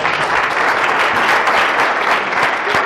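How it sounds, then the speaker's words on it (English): A seated audience at a forex motivational talk claps in a dense, sustained burst of applause that stays loud and close throughout, with no voices over it. "So that's when you're supposed to clap."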